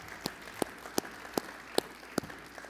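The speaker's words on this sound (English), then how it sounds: "let's give another round of applause for that great panel" Sparse, slow claps from a small part of a conference audience after a panel on clean fuel feedstocks, six or seven distinct claps at roughly even intervals over a quiet room.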